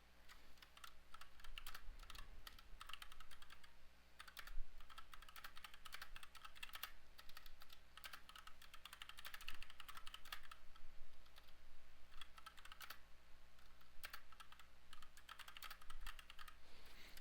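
Someone types on a computer keyboard, with a steady stream of quiet, close key clicks and occasional heavier keystrokes and no talking.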